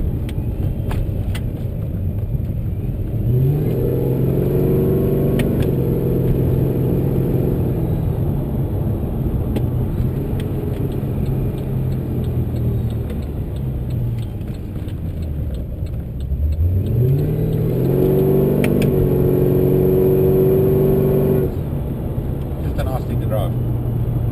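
Whipple supercharged VE Maloo ute with a Turbo 400 transmission driving on the road, engine note climbing steadily through the gears with a blower whine, then easing off and pulling up again, loud and close with someone talking over it.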